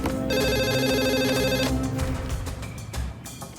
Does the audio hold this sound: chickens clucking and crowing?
no